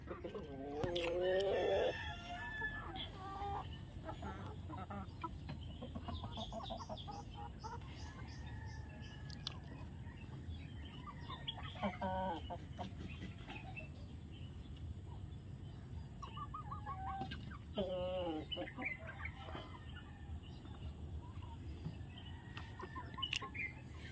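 Chickens eat azolla and cluck and murmur softly on and off, with a few louder calls, while a person speaks quietly nearby.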